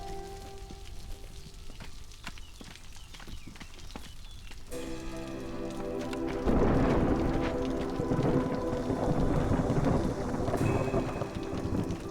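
Stormy weather in the video game Against the Storm, with steady rain hiss and low rolling rumbles that swell louder halfway through, mixed with clicking interface taps and game effects.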